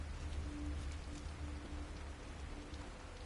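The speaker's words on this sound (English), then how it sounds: "Rain is gonna wash away any evidence." Steady rain in the game The Evil Within, a dense even hiss of falling water with a low rumble beneath, continuous and fairly faint throughout, no voices.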